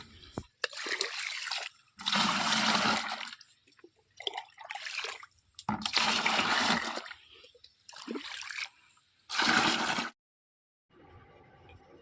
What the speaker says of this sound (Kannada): ಮೊದಲು 1 ಲೀಟ್ರ್ ಡಬ್ಬಿಲಿ 10 ಡಬ್ಬಿ ನೀರು ಹಾಕೋಬೇಕು ರೀ